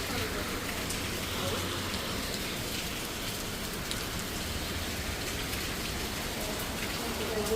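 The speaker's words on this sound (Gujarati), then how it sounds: "જો વેધર જુઓ અને વરસાદ જુઓ, કેટલો બધો વરસાદ છે" Heavy evening rain pours steadily at around half past seven, a dense, continuous hiss of drops striking surfaces that stays loud and even throughout without a break.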